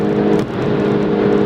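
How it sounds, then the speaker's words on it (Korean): A Volkswagen Golf GTI engine pulls steadily while driving in sport mode, a loud, continuous hum with a low, even drone heard from inside the car. "엔진 소리가 끝까지 살아있죠."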